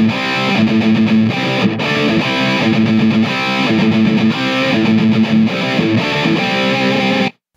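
A distorted electric guitar riff of a song played with tight, palm-muted downstrokes, loud and continuous with a chugging rhythm of repeated chords for about seven seconds before stopping abruptly.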